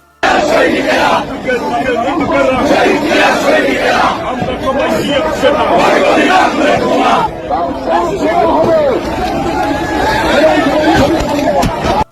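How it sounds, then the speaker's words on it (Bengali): A BNP leader shouts slogans while running, his loud chanting voice mixed with a clamouring crowd of shouting, chattering people throughout. "বিএনপি নেতার স্লোগান দিতে দিতে দৌড় দেওয়া।"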